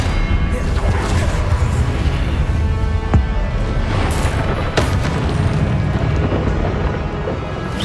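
Spell-casting blasts and impact booms from the Hogwarts Legacy video game, a dense loud mix of rumbling bursts and crashes with a sharp hit near the middle and continuous battle noise throughout.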